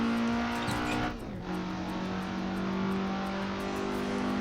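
An FSO Polonez lapping the Nürburgring holds a steady, droning engine note at speed, loud and close throughout. Pitch shifts briefly with a gear change, and faint tire noise sits underneath.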